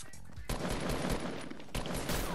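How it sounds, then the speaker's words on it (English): Sniper gunfire in the Fortnite video game comes through as loud, dense bursts of shots that fill the whole moment, with one sharp crack near the start and another near the end. "I'm getting sniped!"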